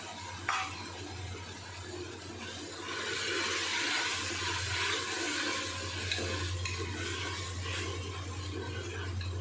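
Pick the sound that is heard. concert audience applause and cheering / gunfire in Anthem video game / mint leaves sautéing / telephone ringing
mint leaves sautéing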